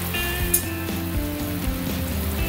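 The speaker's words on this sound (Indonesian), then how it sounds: "kita tutup sebentar sampai airnya mendidih dan wortelnya matang" Water boils with carrots in a covered pot for a vegetable soup, giving a close, continuous bubbling and sizzling patter with faint clinks.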